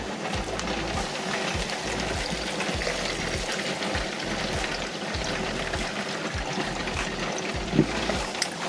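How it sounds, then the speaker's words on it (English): Liquid pours and trickles through a cheesecloth-lined sieve into a jug, a continuous close splashing stream with small gurgles and a faint clink near the end. "we're going to strain some of this off in a jug sieve, and the sieve is lined with some cheesecloth"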